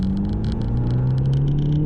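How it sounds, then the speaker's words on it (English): An Abarth car makes a rolling 20 to 50 mph wide open throttle pull, its engine droning loud and steady as the pitch climbs through the gear, close up and with no voices. "we're doing a rolling 20 to 50 mile per hour wide open throttle pull"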